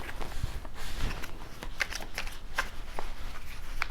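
Tarot cards shuffled by hand in a steady run of soft riffling, papery flutters, with a few sharper snaps and taps standing out, close and moderately loud, no talking.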